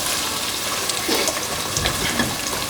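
A steady, dense sizzle of onion frying in hot oil over medium heat, continuous and close, with small pops and crackles scattered throughout.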